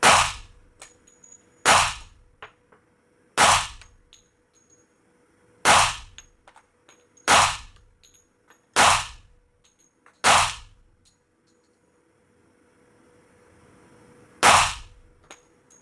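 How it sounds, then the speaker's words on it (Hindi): Eight loud, sharp shots from a Kiehberg 1911 FS .45 pistol, each a clear crack with a short ringing tail, spaced one to two seconds apart with a longer gap before the last, no talk. "तो सारे शॉट्स फ्लॉलेसली फायर हो गए"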